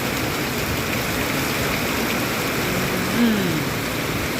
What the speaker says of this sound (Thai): ฝนตกแรง